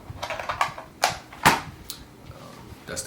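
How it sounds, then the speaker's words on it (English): Keys clack on a Logitech G915 mechanical keyboard in a quiet room, a handful of sharp, uneven strokes with a few louder taps, close to the microphone and with no talking. "That's the keyboard."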